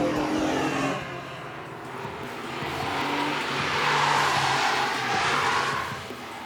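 A car in the Gran Turismo 4 Prologue racing game is driven hard around a test course, its engine revving and surging steadily near and loud, with tire squeal rising and falling throughout.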